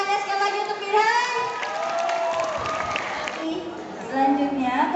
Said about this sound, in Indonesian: boleh minta tepuk tangannya sekali lagi untuk Firhan